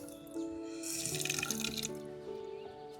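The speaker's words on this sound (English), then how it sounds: "here's an outdoor sink we use, utility sink, and it has the hot and cold water on it." Water runs from the tap of an outdoor utility sink with hot and cold water, a close, steady splashing stream alone with no talk.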